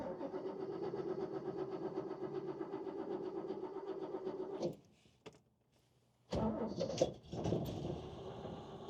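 A 1970 Toyota FJ40 Land Cruiser engine runs steadily and fairly close, then cuts out briefly before cranking and catching again with a few sharp bursts and settling into a rough idle.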